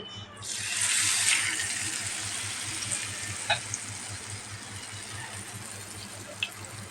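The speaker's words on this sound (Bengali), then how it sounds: "এটার বেটারে চুবিয়ে চুবিয়ে ভেজে নিচ্ছি" Battered snack of flour, egg and potato dropped into hot oil for deep frying, bursting into a loud hiss that settles into a steady bubbling sizzle with a few sharp pops.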